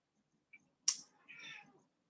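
A cat meows indoors, starting with a tiny chirp and then a sharp, fairly close meow followed by a drawn-out, softer mewing call, against an otherwise quiet room.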